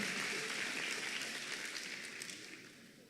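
Church congregation applauding for Jesus during a worship gathering, a short, fairly faint wash of clapping that gradually softens over a few seconds.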